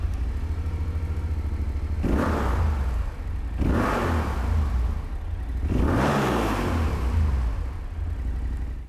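A Yamaha Tenere 700 World Raid with an aftermarket exhaust idles steadily, then revs hard three times in close succession, each rev swelling and falling back. A brief spoken remark is heard.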